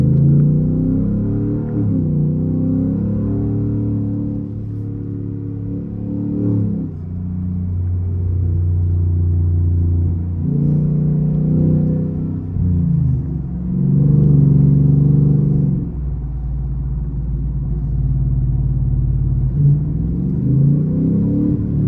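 A car engine pulls over a hill in a steady, loud low rumble, its tone rising and falling in stretches as the gears shift up toward third, close by with no talk.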